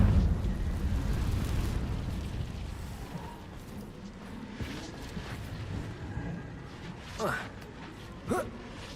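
A Confringo explosion spell going off in Hogwarts Legacy, a loud burst that rumbles and decays over a few seconds, followed by quieter game sounds and voices.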